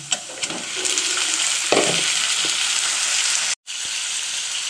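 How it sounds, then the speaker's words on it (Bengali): Onions fry with a little salt in hot oil in a pan, making a loud, continuous close-up sizzle with a few stirring scrapes, broken by a sudden brief silence near the end. "পেঁয়াজটা এরকম ভাজা হলেই চিকেনটা দিয়ে দিতে হবে"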